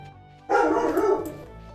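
A dog barks loudly and close by in a burst lasting under a second, during a Stardew Valley game session, with quiet room sound before and after.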